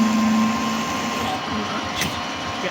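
A 10mm drill bores into metal on a custom Harley Dyna Springer chopper build, a steady close whine and grinding hum that holds throughout, with a brief squeal near the end.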